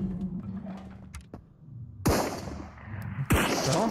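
Grenade blasts in the video game Marauders, two sharp, loud booms with decaying tails a little over a second apart, following a quieter stretch of low ambient rumble.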